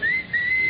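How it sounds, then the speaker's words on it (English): A person whistles for a taxi in two loud, sharp rising whistle blasts, close and clear, in an old radio comedy sketch. "if you want a taxi, just whistle"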